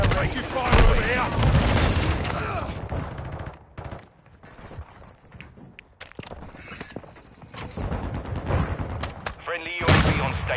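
Gunfire in a Call of Duty team deathmatch, bursts of automatic fire and booms up close, with shouted radio-style voices over the shooting and a quieter lull midway.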